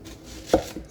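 A Korean Beoseonko knife chops through an onion on a board. One sharp, close chop is followed by a softer second tap, with no talking.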